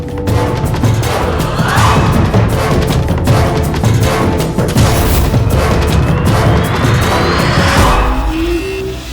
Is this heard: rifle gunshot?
yes